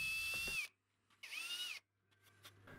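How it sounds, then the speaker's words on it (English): A power drill bores dowel holes through a clamped jig in plywood for an armchair, running in two bursts with a rising-and-falling whine, separated by quiet gaps and light handling noise. "I could then clamp the jig in place to start drilling the holes."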